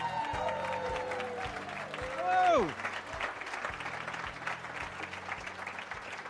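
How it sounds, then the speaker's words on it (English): Audience applause and cheering greet a comedian walking on at an awards show, with a brief musical sting sweeping down over it and a voice then speaking over the continuing clapping. "Please welcome with thunderous applause,"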